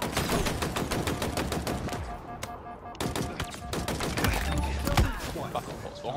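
Rapid gunfire in Halo Infinite, a fast regular stream of sharp shots in bursts with a short pause midway, loud and close, then more shots and impacts.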